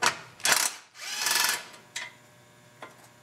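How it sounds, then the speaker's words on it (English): A ratchet wrench removes a bolt from the shroud of a Briggs & Stratton single-cylinder L-head engine, making a few short clicking ratchet bursts close by, then two faint taps. "so I need to remove that bolt"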